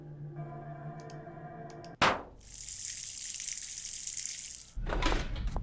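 Water gushes from a tap in the FBI Confidential video game: a steady, fairly loud rush lasting nearly three seconds after a calmer tonal stretch, with another short burst of running water near the end.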